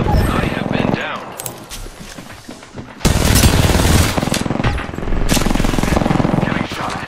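Heavy automatic gunfire rattles loudly in a sci-fi shooter as enemies hit the player, bursts starting around one second and surging again at three seconds, dense and close with brief pauses between volleys.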